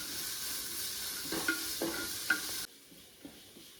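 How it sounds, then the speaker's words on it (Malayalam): Sliced onions and curry leaves fry in a pan for a chicken coconut-milk kurma, giving a steady close sizzle with a few scraping spoon knocks, before the hiss drops sharply and goes quieter near the end. "പിന്നെ കുറച്ച് കറിവേപ്പില കറിവേപ്പിലയിൽ ചേർത്തിട്ട് നന്നായിട്ട് ഇളക്കി കൊടുക്കാം"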